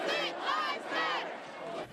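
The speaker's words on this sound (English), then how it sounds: "So the protesters made a lot of noise outside here, and it worked." Protesters gathered outside the state capitol in Lansing shout and chant together against the governor, a dense, loud, continuous roar of many voices with swelling yells.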